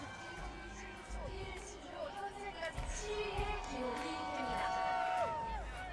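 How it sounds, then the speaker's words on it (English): Crowd cheering and shouting in the finish area of an Olympic women's super-G alpine ski race, with a sustained roar of many voices and a commentator talking over it throughout. "Fantastic reception from the crowd here."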